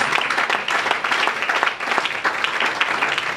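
A church congregation bursts into steady, dense applause praising the Lord, a continuous wash of many hands clapping at close range with no voices rising above it.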